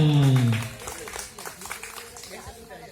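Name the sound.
audience applause at a fire safety training session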